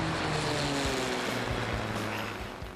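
A shared propeller plane flies, its engine and airscrew giving a loud, continuous droning roar with steady tonal hum throughout, easing slightly at the end.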